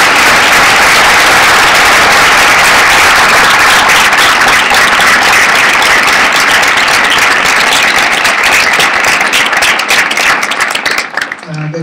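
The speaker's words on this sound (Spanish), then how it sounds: "And I'd like to give them a hand." Loud, sustained applause from a hotel conference audience in Buenos Aires, given for the tour staff: a thick roar of many hands clapping that continues for several seconds before cutting off abruptly at the end.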